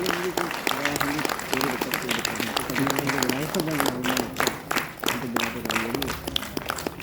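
An audience at an IVRI Bareilly retirement ceremony claps steadily while someone speaks over the room's loudspeaker, with his voice running through the sustained applause.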